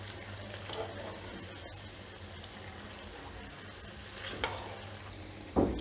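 Manchurian balls frying in hot oil give a steady, hissing sizzle all the way through, with a few sharper bursts near the end.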